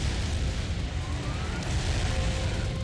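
Twin cannons firing in Armored Core 3 on the PS2: a constant, dense, rumbling roar of explosions that stays loud throughout, with no separate shots standing out.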